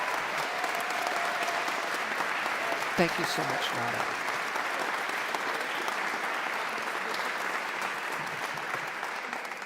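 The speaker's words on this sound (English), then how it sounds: "please, once again, join me in a giant round of applause for an incredible achievement" Thick, continuous applause fills a large hall at a university ceremony, steady and dense throughout, while a voice at the microphone briefly speaks over it.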